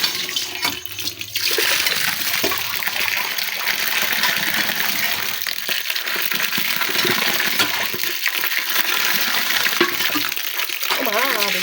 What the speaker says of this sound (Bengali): তারপর এখন পানি দিব, পানি দিয়ে নাড়াচাড়া করবো।